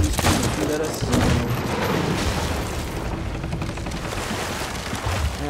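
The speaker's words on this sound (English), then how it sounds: "he's gonna shoot at us" Enemy gunfire in the pirate game Sea of Thieves crackles as a dense, steady barrage of shots and booms over about five seconds, mixed with loud game noise and some voices.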